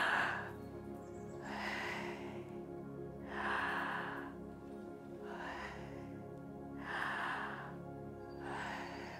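A slow series of deep breaths in and out, about six soft airy pulses at an even, calm rhythm, close and quiet over a low background hum.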